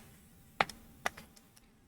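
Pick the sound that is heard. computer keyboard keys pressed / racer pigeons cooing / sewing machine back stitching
computer keyboard keys pressed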